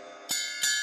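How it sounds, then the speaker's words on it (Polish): A drum cymbal is struck twice on its edge in a percussion workshop, each hit a bright shimmering crash with ringing overtones that sustain between the two strikes. "na rancie brzmi tak"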